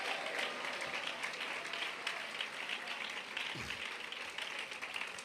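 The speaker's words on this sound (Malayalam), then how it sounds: "കൈയടിക്കുന്നെങ്കിൽ നേരെ കരങ്ങൾ അടിച്ച് ദൈവത്തെ സ്തുതിക്ക" An audience at a Christian worship service claps hands in praise of God, a dense, steady wash of applause that carries on without a break, fairly distant and soft.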